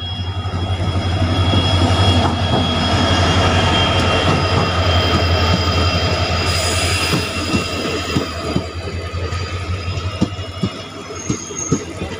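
A train arriving at a station on the way to Lakhimpur: loud, close rumbling of wagons and rhythmic wheel clatter with a drawn-out squeal, easing and growing patchier as it slows near the end.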